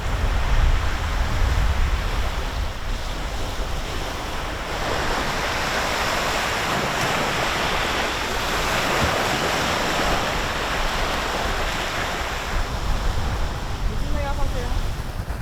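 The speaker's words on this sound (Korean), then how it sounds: "이제 말을 안 할게요. 파도 소리 감상하세요." Ocean waves wash steadily onto a shore, a continuous broadband roar that surges and recedes, with wind buffeting the microphone early on and faint background sounds near the end.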